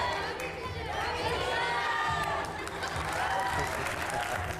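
A studio audience on a TV news debate show claps and cheers, a loose wash of applause and shouting voices mixed with speech.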